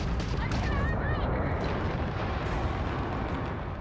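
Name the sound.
enemy ship exploding in a space video game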